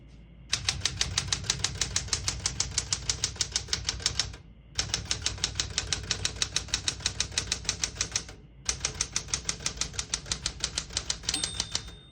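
Rapid, steady keystrokes on a 1969 Smith-Corona Super-Sterling manual portable typewriter in three long bursts separated by short pauses, each burst a dense clatter of strikes, close and loud.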